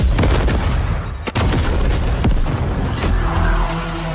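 A bomb blast and gunfire from a movie trailer: loud, dense booms and sharp shot-like cracks over a heavy rumbling bed, continuous and intense throughout.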